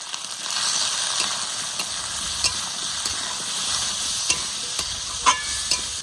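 Potatoes frying with slit green chili, ginger paste, salt and turmeric in a village kitchen pan, a continuous close sizzle with scattered clicks and scrapes of stirring, no voices.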